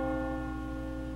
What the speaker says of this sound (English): Says ring the bell.